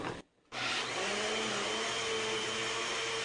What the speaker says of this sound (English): Turn your blender back on.